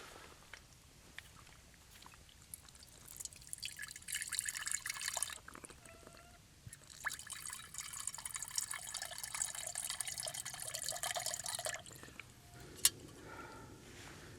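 Water trickles and splashes into a Crusader mug set in a military cook set, poured steadily for over ten seconds in a quiet outdoor setting, with small clinks near the end.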